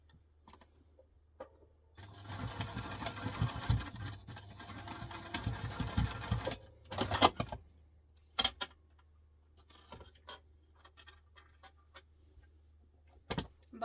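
A sewing machine runs in one steady burst of stitching while a diaper clutch is sewn, then stops and leaves scattered small clicks and handling taps. Close and moderately loud, with no talking.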